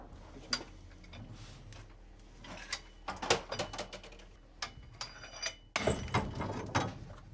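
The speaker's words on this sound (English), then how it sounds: "with a ratchet, he's gonna create enough torque to actually snap this thing" A ratchet chain pipe cutter tightens around a drain pipe with a run of close mechanical clicks and ticks, building to a sharp snapping crack as the pipe breaks, followed by a burst of further clatter nearby.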